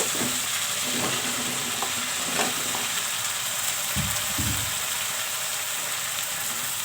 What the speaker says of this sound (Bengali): এখন আমি এখানে ফুলকপি ও আলুগুলো দিয়ে দেব।